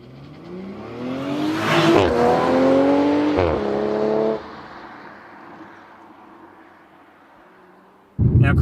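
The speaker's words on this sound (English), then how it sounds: "Not that I think you will over the sound of this exhaust." A 2020 Toyota Supra's exhaust in sport mode rising loudly through revving pulls with harmonic engine tones. The note climbs sharply, drops back, then climbs again before settling to a quieter drone. A loud burst arrives near the end.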